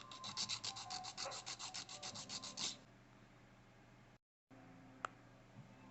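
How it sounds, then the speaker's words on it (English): A nail file rasps against an acrylic pinky nail in a fast, even series of close, quiet strokes for nearly three seconds, then stops, leaving faint room noise and one small tap, with no voices. "It's hard to support it while you're filing it."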